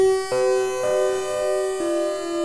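Sustained synthetic tones from granular synthesis of a vocal sample glide and step between pitches in a smooth, buzzy drone, with abrupt shifts in the held notes and no recognizable voice.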